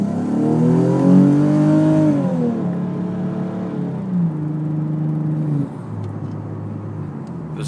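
Nissan 370Z fitted with a Fast Intentions carbon fiber resonator exhaust and test pipes accelerating hard from inside the car, a loud rising engine note through two gear pulls before easing off.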